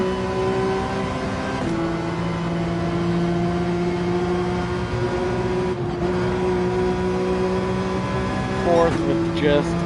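A race car engine drones steadily at high revs in the Gran Turismo 7 racing game, with pitch drops at gear changes and a quick lift near the end, while someone talks over it.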